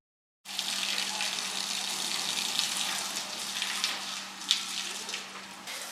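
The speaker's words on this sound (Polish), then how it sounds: "Pan tam leje wodę" In a street of an old white town, water pours steadily from above onto the pavement, a continuous rushing splash heard from nearby with a faint hum under it and no talk.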